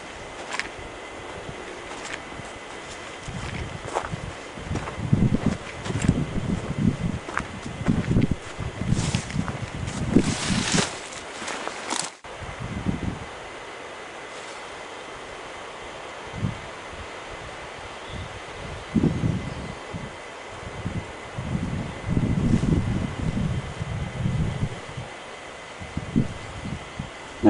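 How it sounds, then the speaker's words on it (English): Sea on the Dunwich coast at dusk gives a low, continuous wash of surf in the distance, mixed with wind buffeting the microphone and occasional rustling and handling bumps. "No doubt you can hear the sea in the background."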